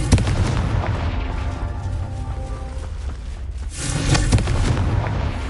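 Confringo fire spells are cast repeatedly in the Hogwarts Legacy game, giving loud booming blasts with a dense low rumble throughout and a fresh surge of explosive roar near the end.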